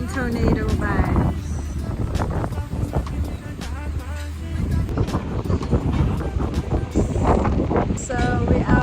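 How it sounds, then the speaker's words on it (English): Strong wind buffets the microphone outdoors at a lodge in Luanda under a stormy sky, a rumbling low roar in gusts, with people talking over it. "It's very windy."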